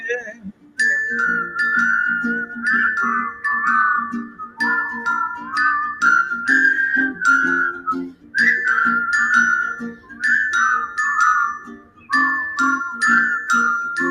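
A person whistles a steady, tuneful melody in a series of phrases with brief pauses between them, close and clear.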